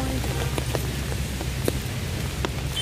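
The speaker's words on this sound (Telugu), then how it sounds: "వర్షం పడుతుంది కదా" Rain falls steadily on a university campus in Visakhapatnam, a constant soft hiss with scattered sharper drops and distant background noise.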